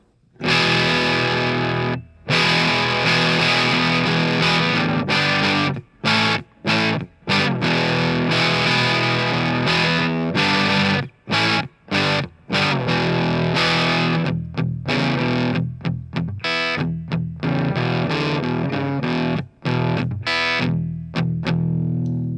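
A guitar runs through an overdrive pedal set with overdrive near 70 and tone near 60, producing thick, loud distorted chords and riffs that ring continuously with brief choppy stops between phrases.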